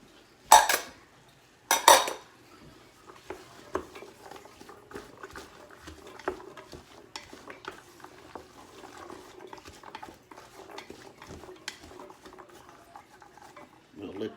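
Chopped carrots tumble into a pot of chicken tortellini soup, two sharp clattering drops near the start followed by soft scattered patters and light clinks of utensil against pot.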